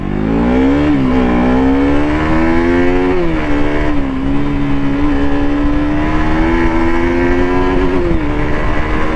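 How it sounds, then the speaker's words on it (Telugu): A motorcycle cruises along with a loud, close engine drone whose pitch rises and falls with the throttle, steady throughout under wind rush. "చాలా రోజులు అయింది బండి క్రూజ్ చేసి. Let's cruise."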